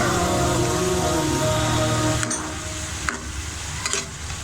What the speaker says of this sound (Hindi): अब इसमें छोटे क्यूब ये हमने आलू डाले।